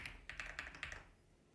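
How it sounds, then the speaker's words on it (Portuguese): Quick run of keystrokes on a computer keyboard as a password is entered, about five or six close, fairly soft taps in an uneven burst that then stops, leaving quiet room tone. "Então você digita o password da sua preferência"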